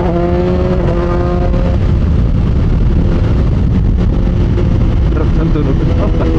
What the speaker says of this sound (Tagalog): Parang mabait na yung tunog niya sa downshift.